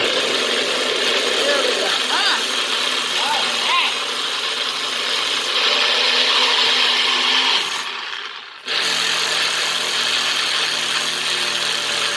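Blender grinding compound butter until smooth, a loud continuous whirring motor with rough churning texture that runs steadily, then cuts out briefly before resuming at full volume.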